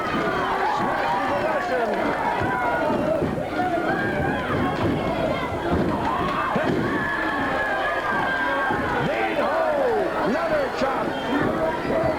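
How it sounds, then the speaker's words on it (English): Roaring arena crowd at a 1978 California professional wrestling match, loud and sustained throughout with shouts and whistles, while a commentator talks over the noise. "The crowd got wild."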